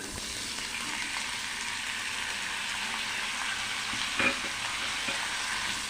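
Pirandai (adamant creeper) sautéing in oil that was already used for frying, giving a steady, dense sizzle that runs evenly throughout, with one brief louder clatter near the end and no voices.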